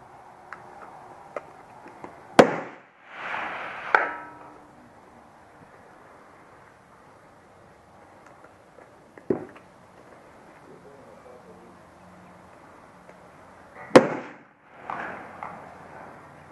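Aguila .22 Long Rifle Sniper Subsonic rounds fired from a Smith & Wesson Model 17 revolver outdoors give a few sharp, widely spaced pops against otherwise quiet surroundings.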